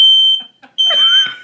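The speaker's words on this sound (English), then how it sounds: "Clay, let it start beeping." A household smoke detector, set off by smoke from a wooden drawer burned in the fire, sounds two loud, piercing, sustained beeps separated by a brief pause, close by indoors.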